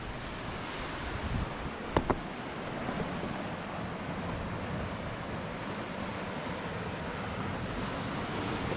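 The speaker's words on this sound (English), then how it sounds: "The water comes in underneath this archway of stone below us here, through the hole." Sea water surges through a stone archway and hole in the rock on the Angus coast of Scotland, a continuous wash of surf and wind noise with a couple of brief knocks near the start.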